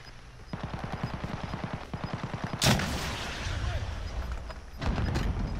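Gunfire in a Call of Duty Warzone match: a rapid automatic burst of evenly spaced shots, followed by a loud single blast and a later thump, all fairly distant beneath the game's ambient noise.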